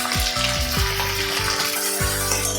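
Chopped tomato fries in hot oil with salt, cooking down for a Bengali tengra fish tel jhal. A steady, loud sizzle crackles up close throughout, with no voices.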